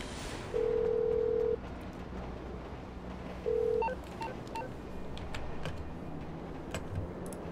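Phone call tones in GTA5: two flat electronic beeps, a longer one and then a shorter one, cut through a steady bed of game noise with no one talking.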